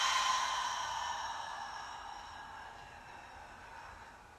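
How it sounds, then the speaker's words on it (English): A long open-mouthed exhale during a yoga breathing exercise, a soft breathy rush that starts loud and slowly fades over several seconds, heard alone. "Open your mouth, exhale, let it go."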